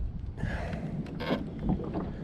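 Strong wind buffets a small fishing boat on a lake while trolling for crappie, rough gusts roaring across the microphone and swelling louder in waves against the hull and water.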